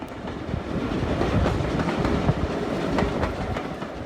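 Flying Scotsman steam locomotive, paired with a preserved Standard 2MT, running on the Keighley & Worth Valley Railway near Mytholm: a loud, steady rumble of rolling carriages with rhythmic clickety-clack of wheels over rail joints, heard from close by.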